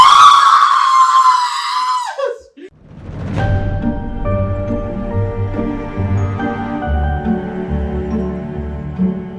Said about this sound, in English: I wanted to scream. So you know what I did? I screamed.